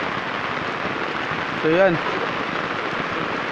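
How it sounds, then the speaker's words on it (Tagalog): Steady rain falls during flooding, a constant even hiss, while a voice speaks briefly in the middle. "Lumalakas pa rin talaga yung ulan."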